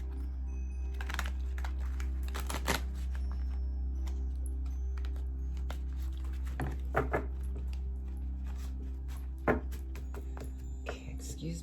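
Tarot cards being shuffled by hand, with soft clusters of quick riffling taps and flicks scattered over a constant low hum, close by and fairly quiet.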